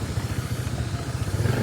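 A motorcycle engine runs steadily nearby on a road damaged by a landslide, a pulsing low rumble with slight revving and no talk.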